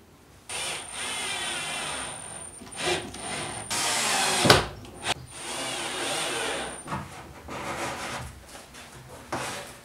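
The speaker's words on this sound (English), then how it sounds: "I also am going to add sunken screws so that the wood moving over the top doesn't get damaged by the screws" A power drill drives sunken screws into wood for a rotating planer base, with several whirring bursts of varying length, a high motor whine, a sharp loud crack midway and short pauses between runs.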